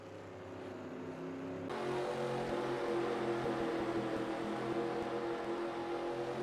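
Race cars at Stafford Motor Speedway roll slowly through turns 3 and 4 before a heat race start, a low steady engine rumble rising in volume and holding through the rest, heard at a moderate distance.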